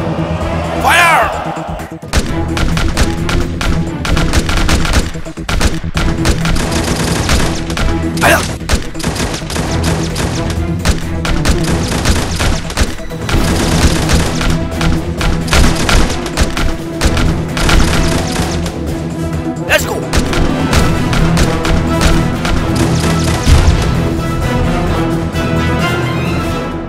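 Gunfire follows an order to fire, heavy and dense, with booming shots and thuds piling into a loud, continuous barrage that carries on throughout.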